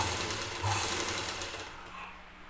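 A sewing machine with a double foot stitches thread piping onto blouse cloth, giving a steady low mechanical hum and whir that runs continuously and fades slightly toward the end, with no talking.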